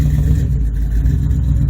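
A car engine labors in first gear while pulling back up a hill, a loud, close, low rumbling drone that holds steady under strain with faint clatter and no talking.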